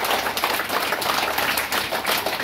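An audience claps loudly for a student in a classroom, a dense, continuous burst of many hands clapping close by with no talk.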